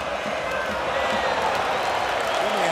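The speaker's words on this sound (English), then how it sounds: "Well, thought the crowd was loud earlier." A loud ice hockey arena crowd roars and cheers after Germany scores against the USA, a dense, sustained wall of noise under a commentator's voice.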